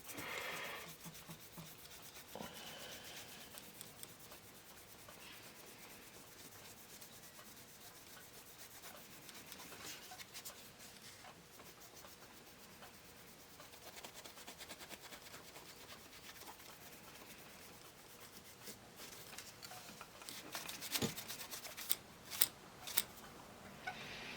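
Drop targets from a 1979 Williams Gorgar pinball machine are scrubbed with a small fiberglass brush, giving faint, close, continuous scratchy rubbing that grows into louder clicks and scrapes near the end.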